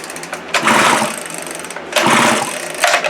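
The starter cord of a discarded 2-cycle string trimmer is pulled twice, each pull a loud close rasping whir with rapid mechanical ratcheting that fades, and no voices.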